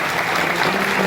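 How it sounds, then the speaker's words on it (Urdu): A conference audience claps loudly and steadily in a dense, continuous burst of applause that fills the room, with no pauses and no voices standing out. "زوردار تالیاں ہونی چاہیے"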